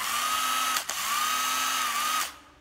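Used Japanese 12V cordless drill with a hydraulic hammer head running at a steady whine, briefly stopping and restarting, then spinning down, close and loud.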